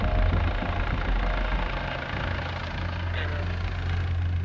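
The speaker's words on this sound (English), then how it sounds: "Big yellow helicopter's just appeared overhead." A big yellow air ambulance helicopter hovers overhead near a motorway collision scene, its deep, continuous rotor thrum and turbine whine fairly loud and steady throughout, with no voices.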